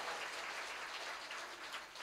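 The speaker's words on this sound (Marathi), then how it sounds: "हा झाला यांच्या टाळीचा आवाज" Women in a kirtan audience applaud continuously, a dense, even wash of many hands clapping at once, steady throughout and moderately loud.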